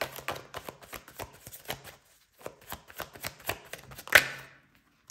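Tarot cards shuffled by hand, a close, quick rhythmic riffling and flicking in two bursts separated by a short pause, ending with a crisp snap as a card is drawn.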